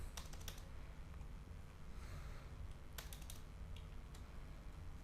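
Quiet typing on a computer keyboard while entering figures into an accounting spreadsheet, with light clicking bursts near the start and middle over a low hum.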